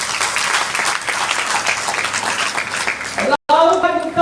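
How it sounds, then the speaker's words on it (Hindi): An audience at a Hindi-language business seminar breaking into loud, sustained applause that cuts off abruptly, followed by a voice. "एक जबरदस्त ताली होना चाहिए।"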